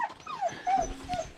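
Dogs whimper and yip eagerly while waiting to set off on a trail ride, with several high, sliding whines and short yelps close by, no talking.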